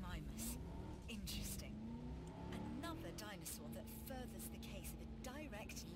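A car driving in the video game Jurassic World Evolution, a steady engine hum that shifts in pitch as it moves, with someone talking over it throughout.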